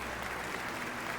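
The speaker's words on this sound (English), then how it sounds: "they're clapping?" Crowd applause in a shooter video game, a dense, even wash of clapping from an audience, moderately loud for a brief moment with no talk.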